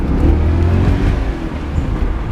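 Steady engine and road rumble from a BMW 325ci cruising with windows down, with a constant low drone and wind noise throughout, no voices.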